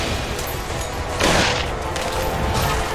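Rapid gunfire and booms from the Killsquad co-op action game, a dense, loud burst of shots and explosive impacts, swelling sharply midway and continuing close.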